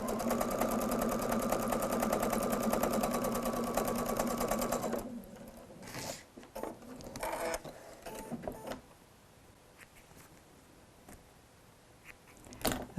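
Sewing machine stitching pieces of quilt fabric, a steady rapid mechanical whir that runs continuously for about five seconds, then stops and gives way to quiet handling and rustling of fabric.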